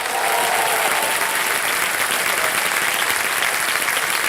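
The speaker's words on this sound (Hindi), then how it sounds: "तालियां बजती रहे इनके लिए" Loud, dense applause from a large studio audience on the game show Kaun Banega Crorepati, continuous and even throughout, with no talking.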